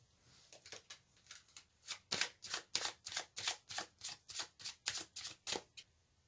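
Tarot cards are riffled and shuffled in a quiet room, a close run of about twenty quick, rhythmic papery flutters that builds in loudness and continues steadily, with no talk.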